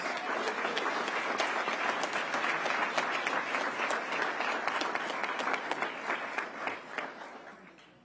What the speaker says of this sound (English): Give Officer Humphreys a round of applause.